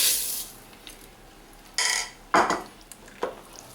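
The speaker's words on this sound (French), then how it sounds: "On va remuer." A spoon scrapes and clinks around a pot of Moroccan harira soup with rice, giving a few separate close stirring strokes between quiet pauses.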